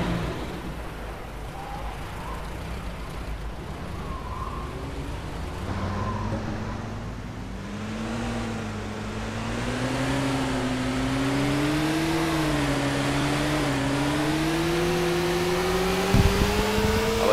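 Car engine in DayZ Namalsk revving up from a start and droning steadily as the vehicle drives off, pitch rising and wavering with speed, loud and close with no talk.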